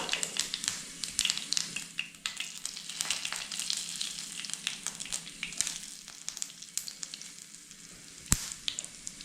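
Green chillies, mustard seeds and fenugreek crackle and sizzle in hot oil in a pan, a dense continuous spitting and popping up close, with one sharp clack near the end.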